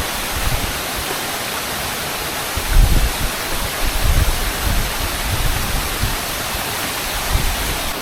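Kataldhar waterfall in the monsoon, near Rajmachi in Maharashtra, pours in a constant loud hiss of rushing water with low thumping surges. No voices are heard.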